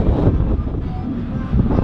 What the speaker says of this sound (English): there is a lot of wind up here. The wind is crazy up here.